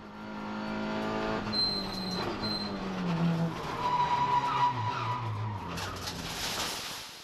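A VW Golf GTI race car skids off at the first corner of a circuit race, with tyre squeal and engine noise from several passing cars, moderately distant over track ambience and no talking.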